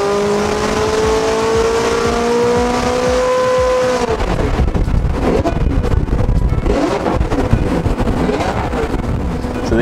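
McLaren 570S with a full titanium exhaust revving on a dyno: a loud sustained high engine note climbs, then drops away into rough, roaring throttle blips and crackles with heavy wind-like noise.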